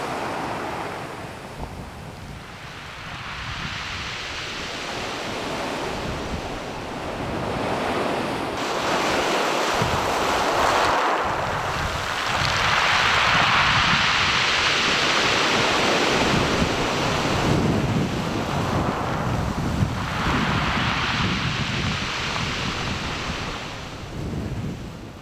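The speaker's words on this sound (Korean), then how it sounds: "이 파도가 몽돌을 간지럽히는 소리가 들려요" Sea waves surging in and washing back over round pebbles on a beach at Ulsan, a continuous loud rush that swells and recedes with gravelly rattling and wind noise, no voices.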